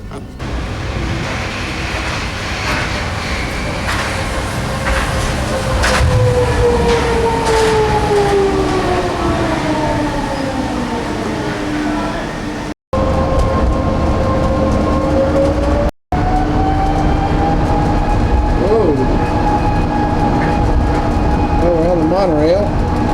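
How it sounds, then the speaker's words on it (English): A Sydney monorail train runs steadily, its motor whine sliding and rising over a continuous rumble of the ride, heard from on board with two brief dropouts. "monorail."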